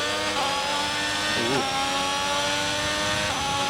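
Race car with a damaged gearbox in the F1 22 racing game, a loud, steady high-revving engine drone with brief rough pitch wobbles where gear changes stumble.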